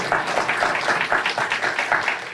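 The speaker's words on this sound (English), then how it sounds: "So you guys can applaud now." A live audience of about 600 at the Cato Institute claps steadily throughout, dense clapping at a moderate level with no talk over it.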